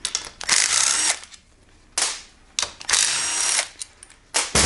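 Close-up ratchet clicking comes in several long bursts with brief pauses as cylinder head bolts are loosened on a GY6 scooter engine during a big bore kit install, loud and without talking.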